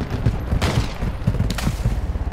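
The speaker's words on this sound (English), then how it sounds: "You are taking effective fire." Rapid bursts of gunfire crackle through a firefight in the DMZ mode of Call of Duty, dense and continuous with several short volleys in close succession.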